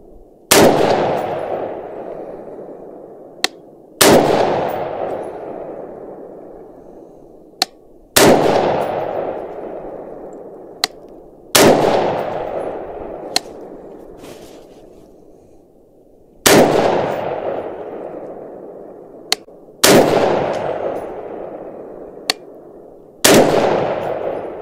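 A rifle fires about seven loud, sharp gunshots at outdoor range targets, spaced a few seconds apart, each with a long echoing decay and small metallic clicks between shots.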